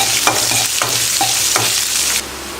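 Onion fries loudly in hot oil with chana dal, urad dal, dried red chilli, garlic and curry leaves. A dense close sizzle is cut by spoon scrapes roughly every two-thirds of a second and thins out near the end.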